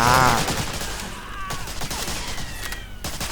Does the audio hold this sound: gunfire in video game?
yes